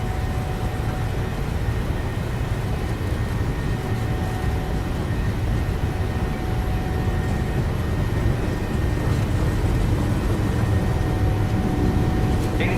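Airliner jet engines spooling up to takeoff thrust in Microsoft Flight Simulator 2020 on a PMDG 737 flight, a steady loud roar and rumble that holds constant with no speech.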